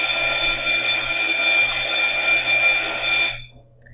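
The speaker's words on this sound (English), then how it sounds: "Sorry for that noise, just let the bell pass." A school bell rings continuously for about three and a half seconds, a steady bright electric jangle heard from inside a classroom, then stops and leaves quiet room tone.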